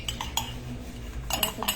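A metal spoon clinks against a cup while coffee is made, with a few quick bright taps near the start and a denser cluster of clinks toward the end, close and fairly loud.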